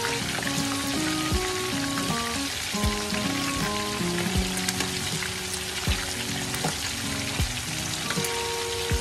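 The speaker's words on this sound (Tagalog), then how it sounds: "Pangalawang prito pa ito" Pork lechon kawali on its second frying in a pan of oil, a loud dense sizzle and crackle throughout with a melodic tune playing underneath, no speech.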